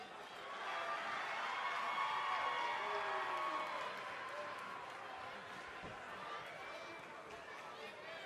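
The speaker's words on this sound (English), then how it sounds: "And Michael, it sounds to me like this crowd already picked the one who they want to win this match" Arena crowd in the WWE 2K20 wrestling video game, a steady roar of cheering and chatter that peaks early, then settles into a sustained wash of noise.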